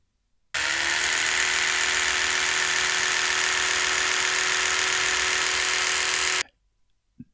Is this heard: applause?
no